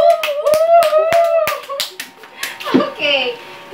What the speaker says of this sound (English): let's give her a kalapati clap